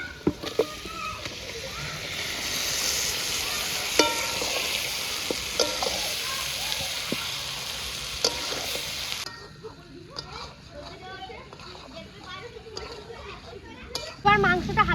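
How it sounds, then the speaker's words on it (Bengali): Marinated meat is frying with browned onions in a pot at a picnic cooking, a broad steady sizzle with scattered stirring clinks before it drops away to quieter scraping and talk. "এখন ম্যারিনেট করা মাংসটা দিয়ে দেবো।"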